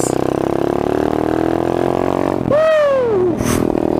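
A pit bike engine runs hard at close range with a steady buzzing drone, then a sharp rising-and-falling rev as the motor bogs and strains in thick mud, ending in a sputtering drop.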